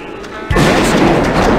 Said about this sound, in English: This is the guy that gives you the scope rifle.